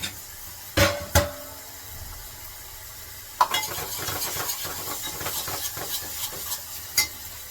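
Onion greens are sautéed in a pan with a spoon: sharp clinks and scrapes against the metal come at first, then a steady stirring and soft sizzle is broken by repeated utensil knocks.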